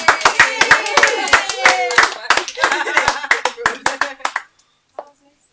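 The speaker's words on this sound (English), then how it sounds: "Round of applause, everyone." A small group claps at the end of a behind-the-scenes interview session, distinct close sharp handclaps in an uneven burst that thins out and stops, with a last few claps.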